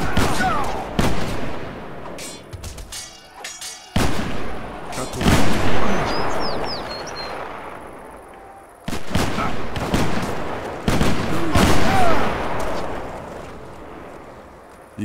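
Cannon fire in the video game Age of Empires 3: repeated heavy booming blasts, some in quick clusters, with gunfire crackle and battle noise between them, loud and close.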